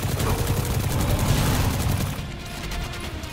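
Rapid sustained gunfire in Destiny 2 rattles loud and close in a dense, continuous volley over a heavy low rumble, easing slightly toward the end.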